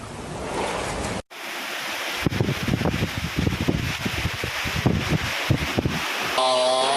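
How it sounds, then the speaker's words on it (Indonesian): Strong wind and heavy rain lash Klaten, Central Java, on a Monday afternoon, with a dense continuous roar of gusts and pouring rain and irregular buffeting bursts after a brief cut at the start. "Beginilah kondisi saat angin kencang dan hujan deras menerjang Klaten"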